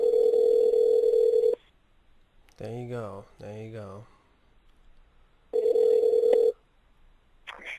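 A phone call rings out twice with long steady electronic tones separated by a pause, a brief spoken phrase between them, then a faint click at the end.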